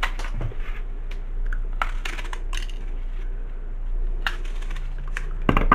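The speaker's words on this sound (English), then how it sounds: "So I'm just going to cut these up just a touch." Knife chopping fruit in a fairly large bowl while preparing cider, a scattering of sharp taps and clicks at irregular intervals over a low steady hum.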